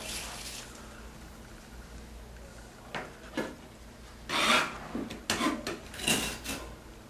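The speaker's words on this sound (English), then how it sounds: "You want to use a sharp putty knife for this because sometimes this doesn't want to rip off all the way" A sharp putty knife scrapes and tears at drywall webbing tape on a sheetrock repair, making a faint steady rasp that gives way to several louder, short scraping rips in the second half. The sound is close and there is no talk.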